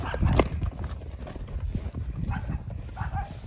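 Hooves thud irregularly as young horses run on soft ground in a paddock at a moderate distance, with faint chihuahuas barking mixed in outdoors.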